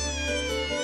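Street cats in Zelenogradsk, Kaliningrad, meow while being fed. One long, drawn-out, plaintive meow sounds close and clear with no talking over it.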